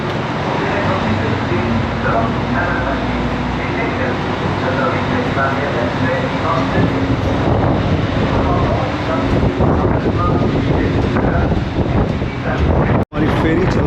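A free car ferry in Quebec under way, its engine drone and wind rushing steadily and loudly against the microphone, with a voice talking over the noise.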